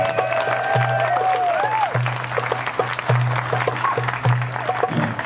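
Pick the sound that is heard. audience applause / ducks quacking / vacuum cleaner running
audience applause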